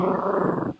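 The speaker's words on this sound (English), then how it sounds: "Oh, that was my dog, man." A dog growls in a low, continuous rumble close to the microphone for under a second, then cuts off abruptly.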